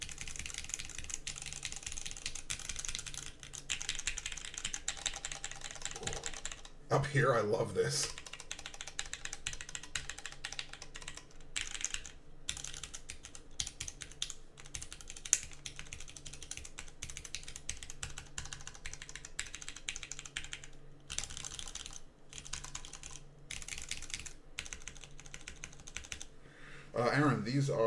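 Rapid, steady clacking of keys on a Hermes numpad and an Obey65 mechanical keyboard, close and fairly quiet, with a couple of short spoken remarks mixed in.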